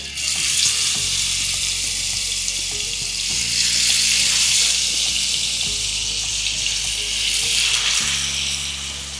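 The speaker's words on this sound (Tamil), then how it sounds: "இந்த எறாவை வந்து அப்படியே மசாலாவோட இதில் சேர்த்துடுறேன்." Prawns coated in green masala hit hot oil in a pan, setting off a loud, continuous sizzle with bursts of spattering and occasional clinks, without any talking.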